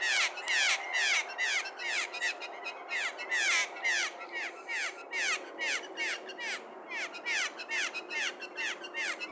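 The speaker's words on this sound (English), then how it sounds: "Feisty Jay, Nova, and a couple other jays came by" Blue jays calling repeatedly at a backyard feeder, a dense run of harsh, rapid squawking calls that stay close and loud throughout with little pause.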